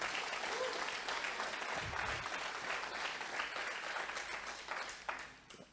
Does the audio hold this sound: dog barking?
no